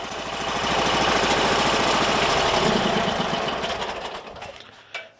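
A Sears Suburban loader with a 20 hp Briggs & Stratton V-twin engine idles with a steady, rapid, close-up rumble, then winds down and shuts off, leaving near silence with a final small knock.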